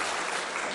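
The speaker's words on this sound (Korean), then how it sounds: "박수하겠습니다" A short, dense burst of applause from a crowd after a children's worship song, steady and even for under a second with no voices rising above it.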